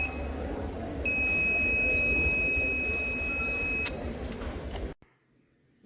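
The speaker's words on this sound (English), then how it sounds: "as the value go up, the buzzer gets actuated" A steady high-pitched electronic buzzer tone from a smart helmet's overspeed alert sounds for about three seconds over a low background hum, then everything cuts out abruptly.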